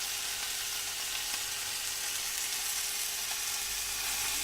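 Steady, dense sizzling of bacon-wrapped chicken fillets frying in a hot pan, a continuous crackling hiss with no talking.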